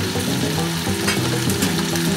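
Meat sauce for a Moroccan-style tajine sizzles and fries steadily in a hot pan while being stirred, a continuous close crackle with scraping stirring sounds and no talking.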